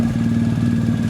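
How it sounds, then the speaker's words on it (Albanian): A motorcycle engine runs steadily and loud nearby, a constant buzzing drone with rough clatter underneath and no clear pauses. "Stenaldo po jep motorit"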